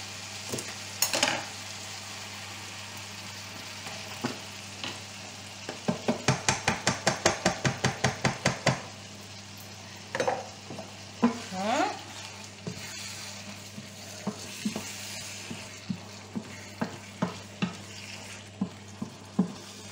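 Vegetables cooking with thick cream are stirred in a pan, with a soft bubbling sizzle, scattered utensil taps and a quick run of rapid scraping strokes in the middle, all fairly quiet.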